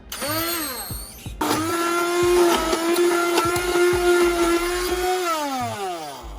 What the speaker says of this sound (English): Then we're gonna come back in with our immersion blender.